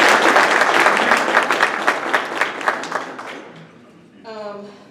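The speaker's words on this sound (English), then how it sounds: "applause." Applause from an audience congratulating an honoree at a meeting, a dense round of clapping that fades over about three seconds before a voice starts speaking.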